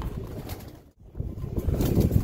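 Pigeons, a seller's roller and high-flyer breeds, coo softly close by over a steady murmur of background noise, with a brief quiet dip partway through.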